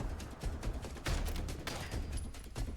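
Rapid shotgun blasts and gunfire from a video game crackle in a dense, loud barrage, with heavy bursts repeating through the whole stretch.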